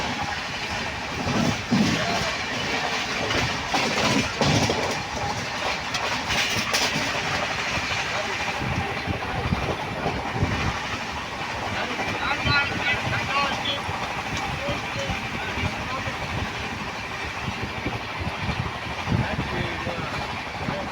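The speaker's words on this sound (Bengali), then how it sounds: "ট্রেন 110, 115, 120 এইরকম স্পিড বর্তমান মেনটেন রাখছে।" The Vivek Superfast Express, on the long Dibrugarh–Kanyakumari run, rolls along at about 110–120 km/h. A continuous rumble and rattle of wheels on rails comes with periodic clatter, heard from inside the coach.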